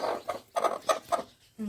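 A hen sits near eggs being set for hatching and gives a short series of soft, close clucks at an uneven rhythm, with quiet gaps between them.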